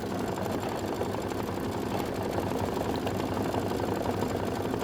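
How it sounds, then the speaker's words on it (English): Quilt block being stitched on a sewing machine, a steady continuous motor whir with rapid needle chatter running unbroken throughout, close and moderately loud with no talking. "We've got about 2 more minutes of stitching"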